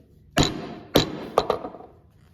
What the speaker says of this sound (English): So I'm going to go ahead and do the stitching chisel across here